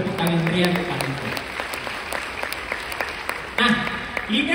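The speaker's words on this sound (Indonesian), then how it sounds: "tepuk tangan meriah untuk Pak Rico" An audience applauds Pak Rico with scattered, crisp claps that continue underneath a speaking voice. The voice is clearer at the beginning and returns louder near the end.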